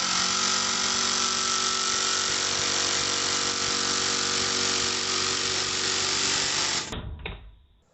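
An impact driver with a 5/16 nut driver bit sinks a 5/16 lag screw: a loud, steady, buzzing whir that runs for about seven seconds, then cuts off abruptly and rings down to quiet.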